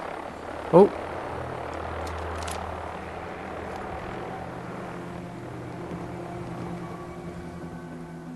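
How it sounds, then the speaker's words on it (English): A low, steady rotor drone from a vertibird aircraft in the video game Fallout 4 runs throughout, with a brief loud exclamation near the start. "I can hear a vertibird."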